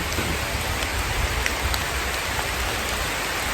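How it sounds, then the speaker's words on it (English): Steady rain pours down over a property in a mountainous region, a dense, even hiss of drops with no pauses and no voices. "It's still raining, it's gloomy, it's ominous."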